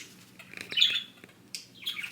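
Budgie parakeet named Gertie gives a few quick, bright chirps in two short bursts, close and moderately soft, with no talk over it.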